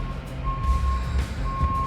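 A construction truck's reversing alarm beeps in long steady tones at a distance, with a low rumble of engine and site noise underneath.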